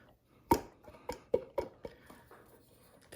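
Canned black beans being mashed in a crockpot for chili, a handful of soft irregular thuds and squelches, close but quiet, with no talking.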